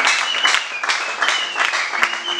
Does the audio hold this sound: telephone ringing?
no